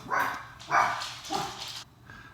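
Dogs bark loudly and close by, three or four sharp excited barks in quick succession.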